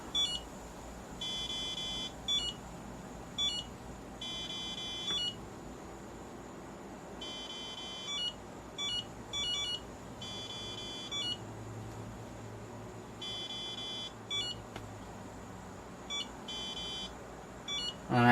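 Repeated short electronic beeps in irregular bursts from an iA6B RC receiver's low-voltage alarm, set at 3.2 volts, over a low background hum, each burst a rapid high-pitched pulsing tone.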